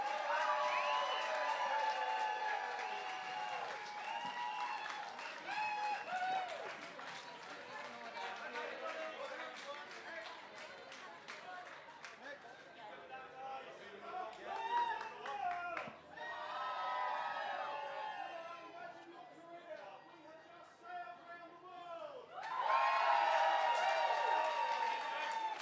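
A large outdoor crowd cheers and applauds performers named Imagine Your Career at the Clipper Round the World Yacht Race homecoming in London, a sustained, swelling roar with shouting voices that surges again near the end.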